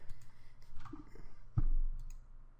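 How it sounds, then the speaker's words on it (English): A single soft mouse click on a computer, faint and close, with a brief low thump after it and no talk. "And I'm going to click OK."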